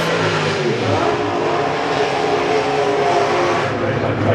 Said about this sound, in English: A 6-cylinder rear-engine dragster.